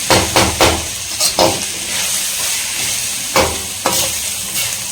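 Paneer sautéing in oil in a nonstick pan gives a steady sizzle and hiss, broken by several sharp bursts of stirring and scraping, close and fairly loud with no talk.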